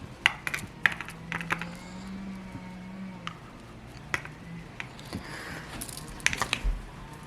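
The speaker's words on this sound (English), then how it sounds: "Just let me unwrap it right now." Cord of a Fulaim WM300 wireless microphone being unwrapped, close and fairly quiet, with scattered light clicks, taps and rustles coming in irregular bursts.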